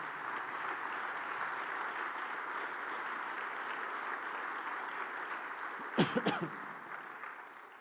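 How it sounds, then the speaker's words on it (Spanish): A church congregation applauds in a steady, fairly quiet wash of clapping, broken near the end by a couple of sharp close coughs or throat clears. "Vamos a darle un aplauso al Señor."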